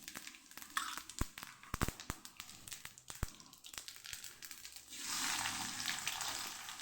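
Cumin and asafoetida fry in hot oil in a wok, giving sharp crackling pops and spitting at first, then a steadier, louder sizzle toward the end, with no voices.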